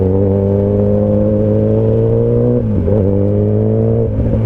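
Kawasaki Ninja ZX10R liter-class superbike engine running steadily while riding, a loud close drone with harmonic whine, briefly dipping and rising as the revs shift.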